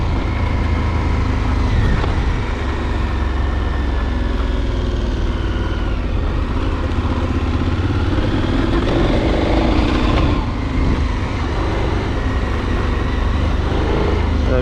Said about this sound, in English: you're on a 500-pound motorcycle